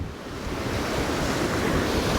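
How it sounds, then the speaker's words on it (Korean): Ocean surf churns and breaks in front of a rocky reef at a fishing spot, a loud, continuous wash of rushing water mixed with wind buffeting the microphone. "지금 파도가 앞에서 말리면서"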